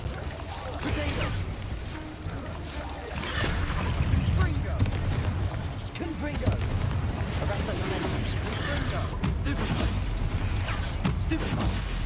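Fire spell blasts in Hogwarts Legacy boom repeatedly through a dense, continuous wash of loud combat noise, with heavy explosive bursts stacking on one another.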